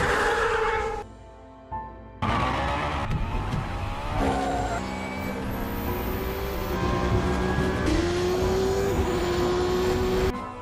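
A Koenigsegg Agera R and other cars in a street race roar past with rising engine pitches, revving and accelerating, after a brief quiet gap; loud, layered engine whines sweep upward over several seconds.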